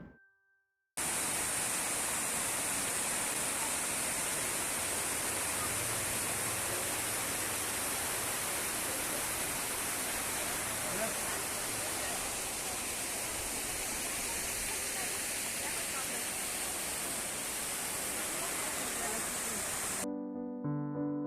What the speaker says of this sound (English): It is more like a gentle cascade than a roaring stream.